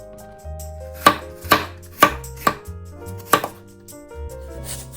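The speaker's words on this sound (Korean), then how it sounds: "사과를 썰어 주시면 됩니다." An apple is chopped with a knife on a cutting board, giving about six sharp, distinct knocks at an uneven pace with quiet gaps between them.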